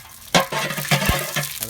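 Whole garam masala spices dropped into hot oil in a pan crackle and sizzle briefly, with a few light clinks from the pan, close and fairly loud.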